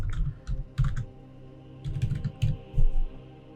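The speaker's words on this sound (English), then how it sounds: "So you put in your password just to make sure that," Fingers type a password on a computer keyboard in two short bursts of close, crisp key clicks separated by a brief pause, with no talking.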